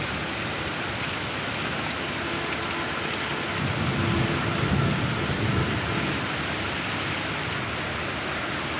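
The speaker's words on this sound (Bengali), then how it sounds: "ঝড় শুরু হয়েছে, প্রচুর ঝড় তুফান হচ্ছে।" Heavy rain pours in a steady roar, and a deep rumble of thunder swells through the middle before fading back into the downpour.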